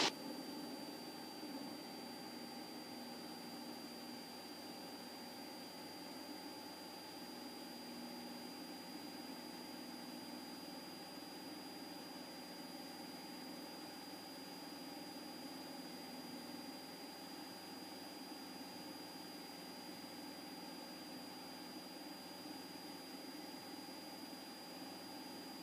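A small training airplane engine on its takeoff roll, a steady droning hum with a constant tonal whine, heard from inside the cockpit at moderate level without variation.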